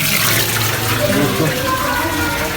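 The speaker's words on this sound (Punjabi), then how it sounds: "ਪਾਣੀ ਇਸ ਪਹਾੜ ਦੇ ਵਿੱਚੋਂ ਆ ਰਿਹਾ ਦਾ ਜੋ ਤੁਸੀਂ ਦੇਖ ਸਕਦੇ ਹੋ" Water gushes steadily out of the mountainside inside a temple cave at the historic Devi Talab Mandir, a continuous loud rushing wash with no break.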